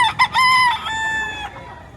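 A rooster at a chicken market in Padre Garcia, Batangas gives one loud, close crow, a long harmonic call that rises, holds, then fades, with faint market background.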